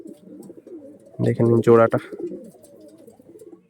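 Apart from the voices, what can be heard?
pigeons cooing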